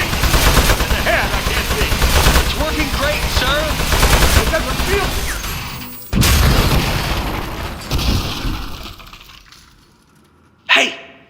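Gunfire hits a metal enemy in the video game Aperture Desk Job: dense, booming shots roll on almost without pause, cut by a couple of hard bangs, then fade to near silence before one last sharp burst.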